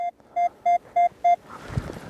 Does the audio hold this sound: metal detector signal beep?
yes